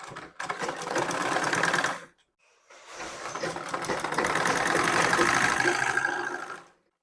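A sewing machine stitches piping cloth onto a blouse in two steady runs, a brief pause between them, running close and fairly loud.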